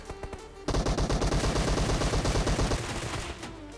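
Rapid automatic gunfire in the mobile battle royale PUBG Mobile, a sustained burst of evenly spaced shots lasting about two seconds after a quieter lead-in, loud and close.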